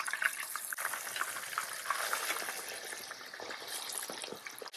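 Chicken pieces frying in a pan for a rich rezala curry, a dense continuous sizzle and crackle close by, with faint clinks as pieces are handled, no talking.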